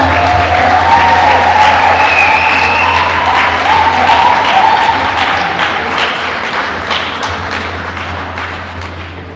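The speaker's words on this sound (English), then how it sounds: "So give them a round of applause." An audience at an inter-secondary school debate final applauds after the arguments, steady clapping from a crowd with some cheering that gradually fades.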